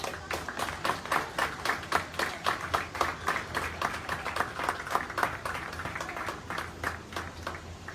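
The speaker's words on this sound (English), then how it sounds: "Give everybody a huge round of applause." Clapping rings out at a county 4-H market swine show, a steady run of individual hand claps from a modest crowd, rhythmic and fairly close, continuing without pause through the whole stretch.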